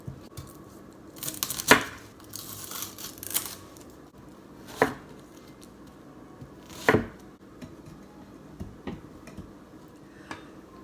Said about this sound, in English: Next we have 2 medium-sized Spanish onions. We're going to put those in the food processor as well.